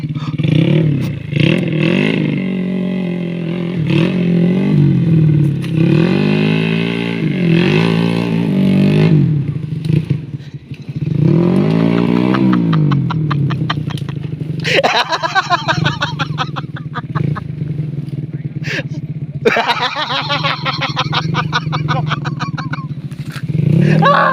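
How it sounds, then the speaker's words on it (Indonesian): Motorcycle engine running and revving while the bike is unloaded, a loud rumbling idle with rising revs throughout, heard under people talking and laughing nearby. "Tutorial menurunkan motor."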